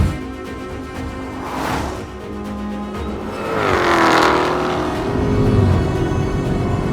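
A Dodge Charger Jailbreak or Lucid Air GT Performance engine roars loudly as it accelerates hard in a drag race, the pitch climbing and sweeping upward before settling into a sustained high-speed drone.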